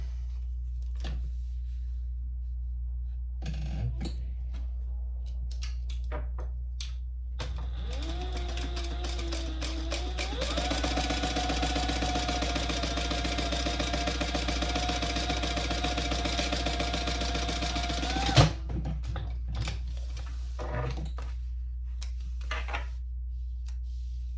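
A sewing machine top stitches a seam on a crossbody bag, starting with short bursts and then running in a long, steady whirring stretch before stopping, with a few handling clicks around it.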